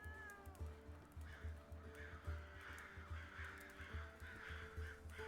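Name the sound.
evening bird song in video game Clanfolk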